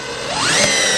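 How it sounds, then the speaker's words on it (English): A DeWalt DCD801 cordless drill drives drywall screws with a steady, close motor whine that rises in pitch and strains slightly toward the end of one continuous second. "it actually will snap the heads off of these drywall screws if you're not careful"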